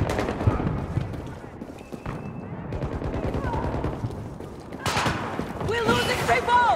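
Rapid bursts of automatic gunfire and single shots crackle through a Battlefield 2042 hardcore match, loud and near, with a sharp louder volley near the end, while players talk over the shooting.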